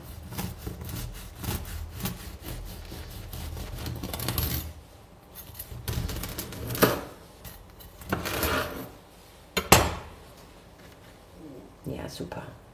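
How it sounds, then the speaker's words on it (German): A knife saws slice after slice through a large, freshly baked cake with a crusty base. The rasping strokes come in bursts with short pauses, close and clear, and a voice speaks now and then between them. "dann schneide ich mal noch eine Scheibe"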